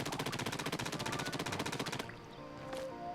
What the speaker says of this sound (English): How about shooting Captain Cuttlefish in the face?